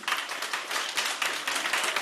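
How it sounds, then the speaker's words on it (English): Applause in a conference room, a steady patter of many hands clapping together, close and fairly loud throughout. "I hope you can hear the applause, Christel, in the room"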